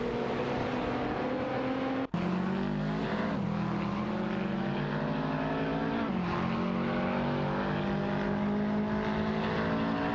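Racing-game cars, an Infiniti Q50 Eau Rouge dueling a Jaguar F-Type Project 7 for tenth place, drone with steady, loud engine tones that shift pitch through gear changes, with a sharp break near two seconds, and no voices.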